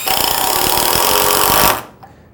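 An 18-volt impact driver sinks a screw into hard maple, a loud, continuous rapid hammering rattle that runs steadily for nearly two seconds and then cuts off abruptly, leaving near silence.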